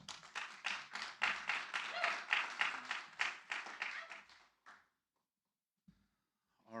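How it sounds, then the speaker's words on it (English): Applause for a speaker at a WordCamp gathering, a modest group clapping in distinct, rhythmic bursts that fade out after about four and a half seconds, leaving near silence broken by a couple of small knocks and a brief voice at the end. "round of applause."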